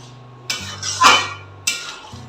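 Metal spoon clanking against a pan three times while navratan korma with ghee is stirred, with a low steady hum underneath.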